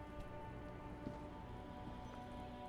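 Steady rain falling in the video game Disco Elysium, a constant even hiss of drops with no pauses, heard alone at a low level.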